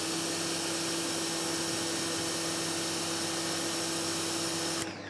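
An Adams 3.0 pressure washer with a 3.5 nozzle runs at a steady, loud motor drone with constant tonal hum, then cuts off near the end.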